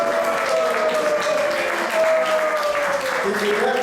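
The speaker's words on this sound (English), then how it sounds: "Let's give a nice round of applause." Audience at a temple gathering claps in a continuous, dense round of applause, loud and sustained throughout, with a sustained tonal sound and voices mixed in.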